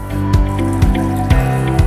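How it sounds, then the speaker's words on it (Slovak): Water poured off red lentils soaked overnight, a close, steady liquid flow with repeated drips and splashes roughly every half second. "Odlejeme vodou."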